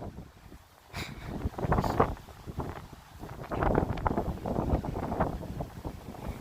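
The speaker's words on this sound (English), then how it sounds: "it's getting windy as a bitch out here" Gusty wind blowing outdoors buffets the microphone in loud, uneven rushes and roars that swell and fade, with no talk over it.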